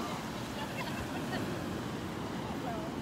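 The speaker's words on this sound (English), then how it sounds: "There are some good sized waves out there, good sized waves." Ocean surf on the beach at Delnor-Wiggins, good-sized waves giving a steady, faint broadband wash with wind noise throughout, no distinct individual breaks.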